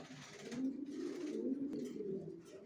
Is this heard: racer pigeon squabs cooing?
yes